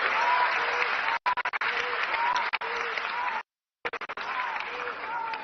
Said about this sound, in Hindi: जोरदार तालियां देश के प्रधानमंत्री नरेंद्र मोदी जी को